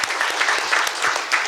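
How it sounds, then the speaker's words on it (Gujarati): Brief applause for the choreographers of a film, many people clapping in a steady, lively patter close by, with no voices over it. "એ બંને માટે પહેલાં તો તાળીઓ થઈ જાય."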